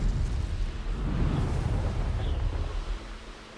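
Incendio fire spell cast in the Hogwarts Legacy video game, a loud, rumbling fiery burst with a deep low-end roar that holds steady for a few seconds before tapering off, with no voices over it.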